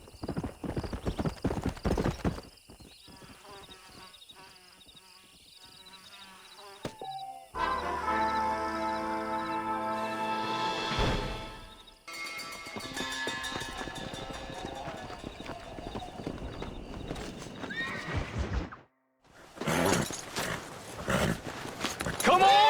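Horses in Red Dead Redemption gallop with rapid clip-clop hoofbeats that come in several bursts, joined by a neigh, all set against game music and ambient noise.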